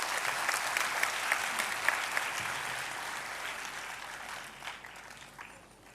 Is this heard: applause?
yes